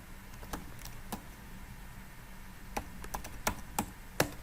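Scattered keystrokes on a computer keyboard while entering details into Tally ERP9 accounting software, a few isolated taps spread irregularly over a quiet, faint background.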